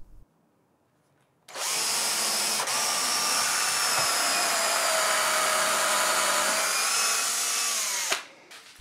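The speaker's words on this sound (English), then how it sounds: "I drilled large round holes into the bottoms of the verticals" A power drill with a Forstner bit bores large round holes into the bottoms of workbench frame verticals, starting abruptly and running as a loud, steady whine for several seconds before cutting off.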